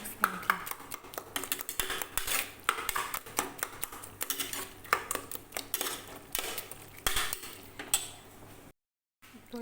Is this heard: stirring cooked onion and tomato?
yes